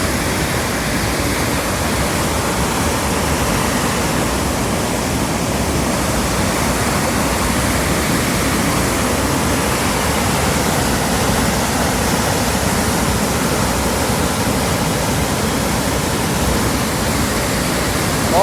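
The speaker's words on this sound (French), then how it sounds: "l'Arvan brasse pas mal hein," The Arvan, a mountain river in high water, rushing in a dense, unbroken roar, loud and close, steady from start to finish with no talking.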